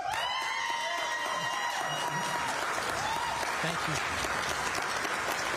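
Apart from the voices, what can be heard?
audience applause for debate candidates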